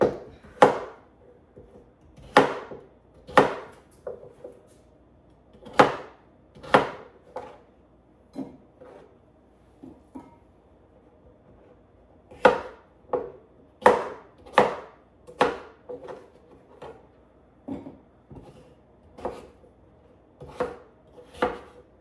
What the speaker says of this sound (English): I'm just gonna chop up the rest of this